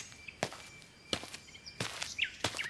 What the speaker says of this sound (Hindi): अचानक उन दोनों को बाहर से एक हल्की आहट सुनाई दी।